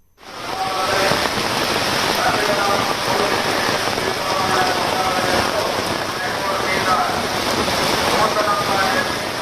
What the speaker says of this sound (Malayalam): ദീപാരാധനയ്ക്ക് തൊട്ടു മുൻപാണ് കോരിച്ചൊരിയുന്ന മഴയെത്തിയത്